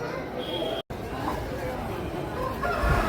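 Roosters and hens at a chicken market in Machilipatnam call and cluck at moderate distance, mixed with a crowd's background chatter and a brief dropout partway through.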